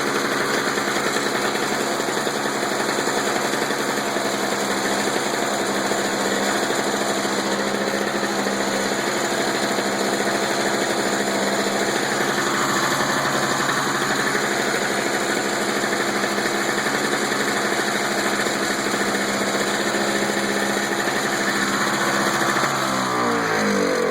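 A Toro two-stroke snow blower engine runs steadily after a chokeless warm start, a loud, close, high-pitched buzzing drone that holds throughout with no talking.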